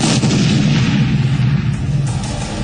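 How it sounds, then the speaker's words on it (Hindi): Heavy gunfire and blasts during a terrorist attack at an airport: loud, dense, rumbling bursts of shots follow one another without pause, booming and close throughout. "गोलियों की आवाजें थमने का नाम नहीं ले रही थी"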